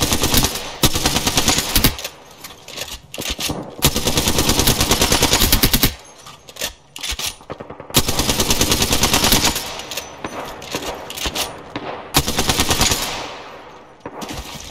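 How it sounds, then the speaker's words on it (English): Loud video game gunfire, with bursts of rapid machine-gun fire and gunshots in long sustained volleys broken by short pauses, fairly close and dominant; no one speaks. "Listen up, I'm getting shot at."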